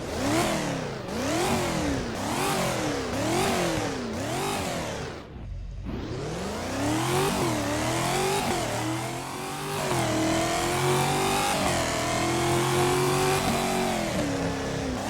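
A Chevrolet car engine in the video game Driving Empire revs rhythmically up and down five times, drops briefly, then climbs into a long sustained roar with shifting pitch, loud and close.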